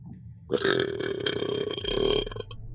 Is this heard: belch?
yes